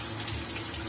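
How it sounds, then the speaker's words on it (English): Water from a home shower runs in a steady, loud, full rush that stays constant through the moment, with no voices. "We're gonna have a shower"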